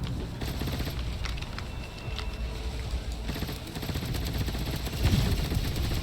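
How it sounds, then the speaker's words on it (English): Grenade launchers fire in the vehicle-building game Trailmakers, making a continuous rattling crackle of rapid shots over a steady rumble of engine and movement, with a heavier thump near the end. "Okay, my grenade launchers are kind of useless."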